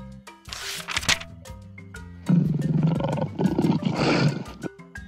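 A lion roars in a series of deep, rough, powerful bursts that rise and fall over several seconds, close and loud, with a thin tonal backing bed and no speech.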